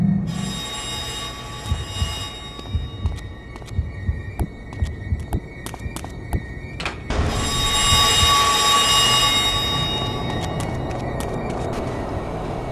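A subway train rumbles in the video game Manhunt, first as rhythmic thumping clatter, then swelling into a loud, sustained rush with metallic squealing tones.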